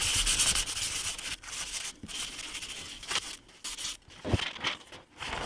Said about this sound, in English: And you can see I am getting some holes in it where I'm sanding all the way through.